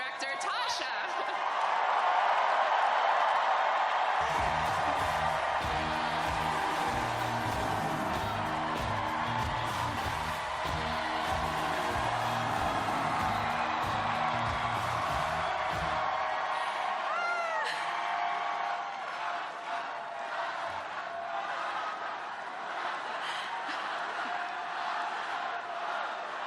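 A large crowd at a political rally cheers, whoops and shouts in a long, loud roar, with rhythmic clapping building midway before the noise slowly fades; no single voice stands out.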